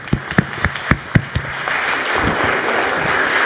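An audience welcomes Judge J. Harvie Wilkinson with applause, starting as a few distinct, loud early claps that quickly swell into steady, sustained clapping from the crowd.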